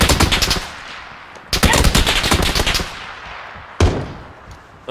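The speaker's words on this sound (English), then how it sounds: "Oh, I'm getting shot." Rapid bursts of automatic gunfire in PUBG striking the player's character, loud and close, in three clusters with brief lulls between them and no talk.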